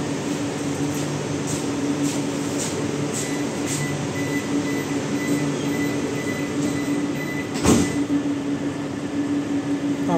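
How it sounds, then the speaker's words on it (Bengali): A metro train on the Airport–Noapara line stands at a station, then departs. A steady mechanical hum with a faint tonal whine runs throughout, broken by a brief sharp clunk near the end, heard from inside the car. "আবার ট্রেন ছাড়ছে।"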